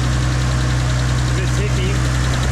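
A built, forged RB25 engine in a Nissan R33 drift car runs at a rough, loud idle with a deep steady drone and a ticking, knocking edge, and a voice talks faintly over it.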